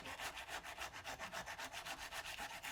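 A chef's knife blade being hand sanded with sandpaper, a quiet rhythmic back-and-forth rasping in steady even strokes, close up with no talking.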